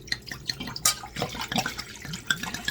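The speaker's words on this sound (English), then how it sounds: "So you're going to put 3 cups of water into your saucepan." Three cups of water poured from a bottle into a saucepan for steel-cut oats, a steady splashing trickle with scattered bright drips, close by and moderately loud.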